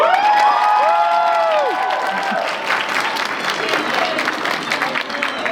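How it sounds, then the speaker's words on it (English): A convention panel audience at Anime Milwaukee claps and cheers loudly, with dense applause and high shouts that taper slightly over several seconds while voices mix in. "Everybody clap for Keith!"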